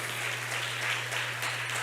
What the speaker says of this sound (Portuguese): Aplauda ao Senhor mais uma vez